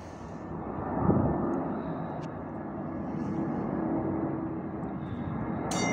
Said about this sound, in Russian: Самолет взлетает.